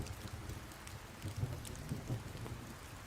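Steady rain falls during a thunderstorm, a soft continuous patter with faint low rumbles swelling now and then, heard as if from indoors.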